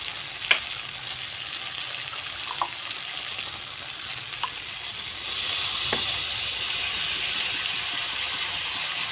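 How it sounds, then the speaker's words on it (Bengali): Water poured into sautéed spices for a boal fish curry, a steady sizzling hiss that swells louder partway through, with a few sharp clicks of a utensil against the pan. "কষানো হয়ে গেছে, তো এর মধ্যে আমি জল দিয়ে দিই।"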